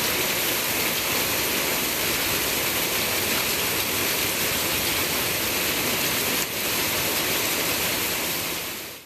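Heavy rain pours steadily in Tamil Nadu, a dense continuous hiss of falling water filling the scene, loud and unbroken with no voices.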